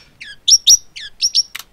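A pet bird chirps in quick bursts of high, bright tweets, with several short calls in a row, close and clear, and no talk over them.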